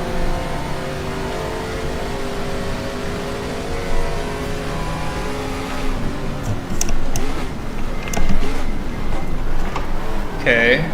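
Race car engines in the GTR2 racing game at 1976 Sebring drone and whine steadily with shifting pitch as one car overtakes another, a continuous loud mechanical roar with a voice talking over it.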